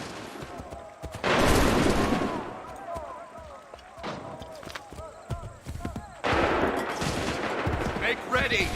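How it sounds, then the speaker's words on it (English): A massed musket volley rips out in Assassin's Creed III. Two loud bursts of overlapping gunfire each roll into a dense crackle, with scattered single shots between them and faint battlefield shouting underneath. "Fire now!"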